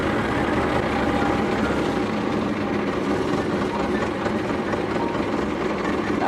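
A Massey tractor's engine runs steadily at idle, a continuous close rumble with a faint mechanical rattle and no break over several seconds.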